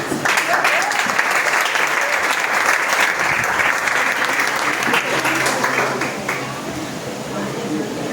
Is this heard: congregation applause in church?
yes